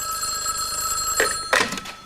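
A telephone rings with a steady bell tone for about a second and a half, then two louder bursts of ringing follow near the end, with no talking over it.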